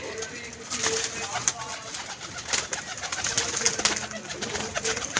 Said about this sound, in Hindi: कबूतर आपने देखना है।